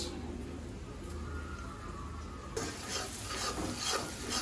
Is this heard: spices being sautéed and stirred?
yes